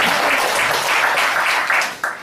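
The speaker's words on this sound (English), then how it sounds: "More applause for the product, guys" An audience at a product demo applauds, a dense continuous clapping that stays steady for about two seconds and then drops off abruptly with a last few claps.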